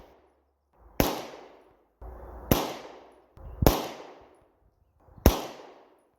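A Tisas 1911 Carry DS pistol firing S&B 124 grain full metal jacket rounds at 25 yards, four loud, sharp shots spaced about a second or more apart, each with a short echoing tail.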